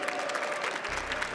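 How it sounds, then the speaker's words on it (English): A crowd claps and cheers for Singapore at an esports round of the FIA Motorsport Games, a brief dense burst of applause filling the hall. "Big cheer for Singapore!"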